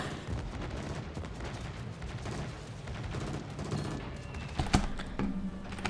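Heavy bombs strike the battleship Montana in a naval warfare video game, a thick, continuous roar of booming blasts and gunfire with a sharper impact near the end.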